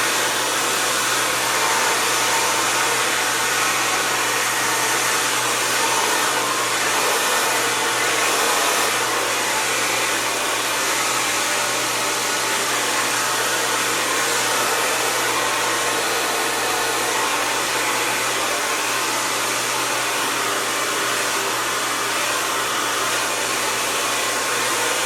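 A hair dryer on its high, hot setting blows across curly hair in a loud, steady whoosh that holds an even tone throughout without pause.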